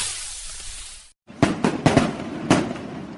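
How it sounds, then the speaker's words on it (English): Fireworks at the International Fireworks Festival in Penghu, Taiwan: after a steady hiss and a brief gap, a run of sharp bangs and crackling bursts at irregular intervals, heard alone and fairly loud. "Penghu lights up the skies with its fireworks festival."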